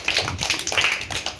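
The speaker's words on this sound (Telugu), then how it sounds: "Very good, claps." Children clapping in a classroom, a short burst of several pairs of hands giving uneven, overlapping claps close by, with no talk over it.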